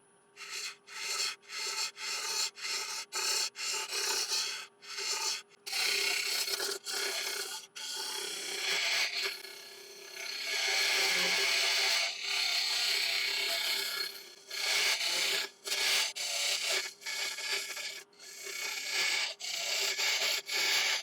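A wood lathe turns a large elm blank at about 959 RPM as a gouge scrapes it in repeated loud, rasping passes, each cut broken by short pauses, close and steady with no talking.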